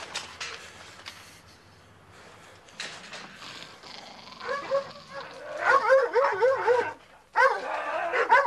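Dogs bark and yip in a 1985 television crime reconstruction, sparse at first, then a rapid, loud burst of barks and whimpers in the second half, with faint sounds underneath.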